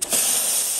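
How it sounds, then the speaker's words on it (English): The steam wand of an Alex Duetto espresso machine hisses in a sharp, loud burst up close, starting abruptly and holding steady for under a second. "Let's just test the steam quick."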